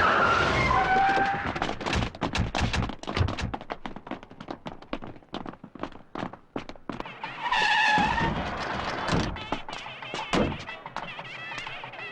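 A car speeds along a road and skids, with sharp tyre squeals near the start and again later over a roaring, gusty engine rush. There is no talk.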